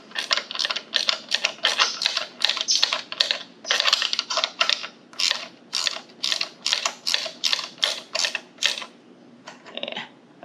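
A rapid run of sharp ratchet clicks while bolts are snugged up on a Go Power Sports MB200 minibike, a steady rhythm of close, crisp ticks with a brief pause near the end.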